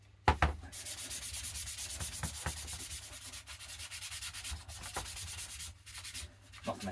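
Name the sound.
scrubbing airsoft gun parts with a scouring pad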